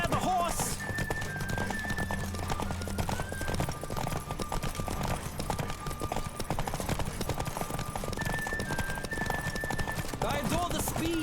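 Galloping horse hooves in The Witcher 3, a steady rapid clip-clop running throughout over a music bed, with a brief whinny and a voice speaking over it.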